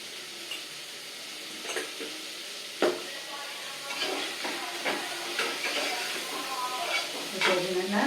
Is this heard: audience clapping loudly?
no